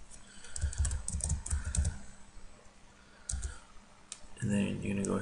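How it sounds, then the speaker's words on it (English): Typing on a computer keyboard, close and fairly quiet: bursts of rapid key clicks with pauses between them, and a louder clatter near the end. Some talking runs alongside. "you're gonna type in exactly what I have typed here"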